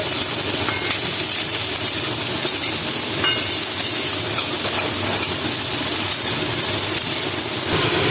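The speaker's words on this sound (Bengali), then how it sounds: "তো এখানে আমি সোয়াবিনটা ভাজতে বসে দিয়েছি" Soya chunks frying in a pan of hot oil give a steady, close, continuous hiss and sizzle that stays even for the whole stretch, with no voices.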